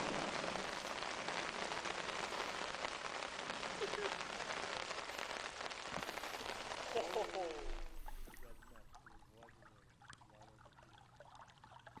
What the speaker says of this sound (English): it's about to rain over here, so we're gonna get into our tent now